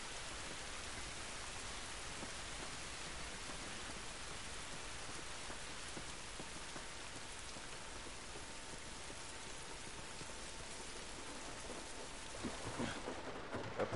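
Steady rain pours in an outdoor scene of The Last of Us, a constant hissing downpour with drops pattering on surfaces, even and unbroken for the whole stretch, with a faint low rumble and a few louder taps near the end.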